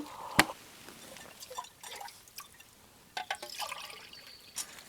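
Water from a stream trickles and drips quietly close by as a metal mug is filled outdoors, with small splashes and a sharp knock early on.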